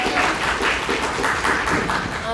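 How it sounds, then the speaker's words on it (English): Steady applause fills a poetry collective's livestreamed event, a dense, continuous wash of many hands clapping close by with a few voices mixed in. "Give yourselves a round of applause"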